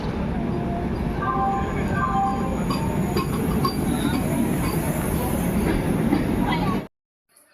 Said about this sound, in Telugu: ట్రైన్ అయితే ఎక్కేసామండి మేము